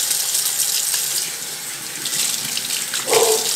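Steady stream of water running from a faucet into a double kitchen sink, a loud continuous hiss with a brief splashy change near the end as the flow hits something.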